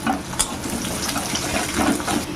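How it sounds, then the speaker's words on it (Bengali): Chopped onion, cumin seeds, green chili and cardamom fry in hot oil, giving a steady close crackling sizzle with occasional louder spits and stirring. "পেঁয়াজটাকে একটু ভেজে নিয়েছি"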